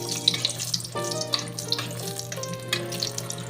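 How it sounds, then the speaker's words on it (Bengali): Lentil dumplings (bori) dropped into hot oil and frying, a close bubbling sizzle with crackling pops and faint clinks, steady for a few seconds. "তেলটার মধ্যে বড়িগুলোকে ছেড়ে দিয়েছি।"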